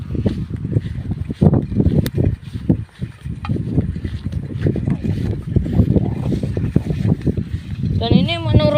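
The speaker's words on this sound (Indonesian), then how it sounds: "Ini anginnya sore ini sangat lumayan main kencang" A strong afternoon wind blows while a kite is flown in a field in Nganjuk, buffeting the microphone with a steady rough rumble as people talk throughout.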